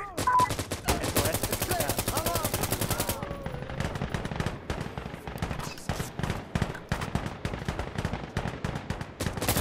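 Dense automatic gunfire during a hardcore night checkpoint match in Insurgency: Sandstorm, rapid bursts rattling steadily for nearly ten seconds, loud and close, with a faint voice partly buried beneath the shots.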